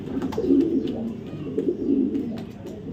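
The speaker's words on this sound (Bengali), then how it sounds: "রেস করা একটা নর কবুতর" A male racing pigeon, a club race bird from 2023, coos in a near, steady, low throaty rumble that swells in repeated phrases.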